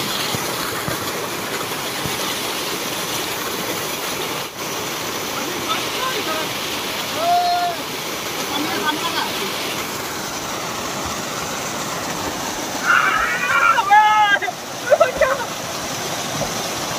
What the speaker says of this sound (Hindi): ये देखिए फॉल, देखिए कितना खूबसूरत है, ब्यूटीफुल फॉल।